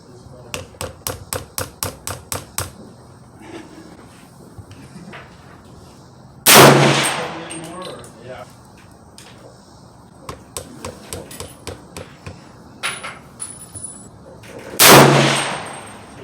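Rifle shots from a 300 Blackout loaded with Barnes VOR-TX ammunition crack out at a 50 yard range: a quick burst of sharp reports, then two loud isolated shots among quieter clatter and handling noise.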